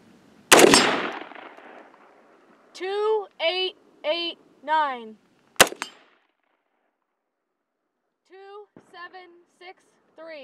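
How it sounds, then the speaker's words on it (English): Bushmaster .223 rifle firing 62-grain hollow-point TulAmmo steel-cased Russian rounds over a chronograph: one loud sharp report near the start and another shortly after, separated by a voice talking. "So I'm going to shoot three rounds over the chronograph."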